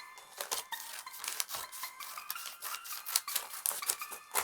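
Scissors cutting paper in half for a fall puzzle tree craft, a run of crisp snips and slicing rasps repeating close up with no talk.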